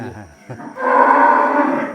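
A Gir cow gives a long, low moo lasting over a second, fairly close, after a few brief lowing sounds at the start, on a hilltop cattle farm inside a forest.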